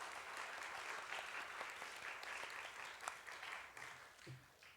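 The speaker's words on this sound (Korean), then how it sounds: "격려의 박수 드리겠습니다" Applause from a church congregation, steady clapping throughout and fading slightly at the end, fairly faint and distant.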